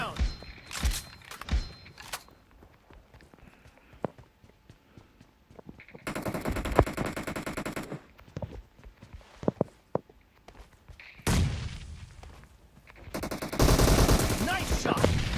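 Bursts of automatic gunfire in the PUBG Mobile battle royale game, rapid rattling volleys with quieter stretches of footsteps between them, loud and close, mixed with game sound effects.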